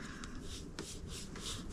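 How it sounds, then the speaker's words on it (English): A bone folder is rubbed firmly along a scored paper fold while making a Halloween treat box, giving a few short, dry scraping strokes close up in a quiet room. "Burnish that with your bone folder."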